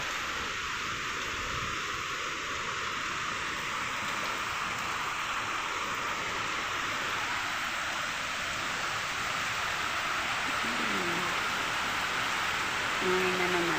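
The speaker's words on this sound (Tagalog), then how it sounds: "Maulan dahil sa bagyong Catherine." Steady rain falling during a typhoon in the Philippines, a constant moderate hiss of drops on surfaces with no break, fairly distant and even, with faint background tones near the end.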